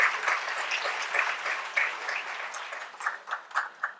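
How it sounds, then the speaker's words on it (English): An audience applauds at a forum and 50-plus hiring event, a dense patter of many hands clapping that swells early, thins slightly, then surges in a few louder bursts toward the end. "Won't we have another round of applause for County Executive Dr. Charlene Dukes?"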